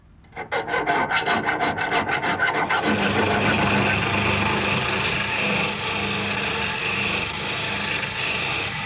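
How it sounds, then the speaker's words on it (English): Hand-filing and sanding of metal parts for an Irish spinning wheel: rapid rhythmic rasping strokes at first, then a steady, continuous scraping rub, close and loud, with no voices. "The metal parts are filed down and sanded"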